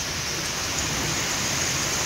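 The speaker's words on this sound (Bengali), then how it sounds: "আলহামদুলিল্লাহ প্রখর বৃষ্টি হচ্ছে" Heavy rain pouring down during a downpour in Jessore, a dense, unbroken hiss of drops on surfaces that stays loud and steady from start to finish, with no voices.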